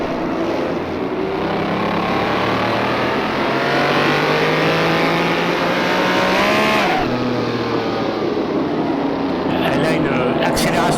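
Racing engine of a 1967 Renault 8 Gordini 1300 or Ferrari Testa Rossa 250 in the rFactor 2 racing game, revving up loudly through rising gear sweeps with a shift near the middle, under someone talking.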